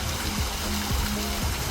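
Man-made waterfall in the gardens at Lytham St Anne's, giving a steady, unbroken rush of falling water close by.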